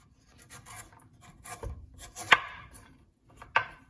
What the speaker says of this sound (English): I got this carrot, add to the cabbage. So I'm just gonna shave it down.